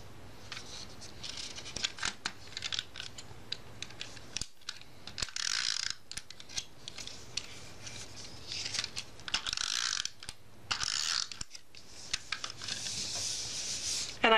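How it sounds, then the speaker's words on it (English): A printer feeds a journaling card glued onto a carrier sheet through its rollers, with a long run of mechanical whirring, clicking and stop-start ratcheting pulses at moderate volume. "So now I've run it through the printer and see how perfectly everything aligns."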